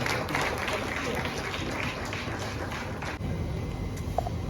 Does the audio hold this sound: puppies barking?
no